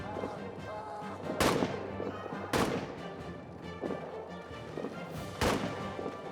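Grenade blasts and rifle fire in a World War I trench warfare game hit as several loud, sharp explosive cracks spaced a second or so apart over a low, rumbling battlefield background.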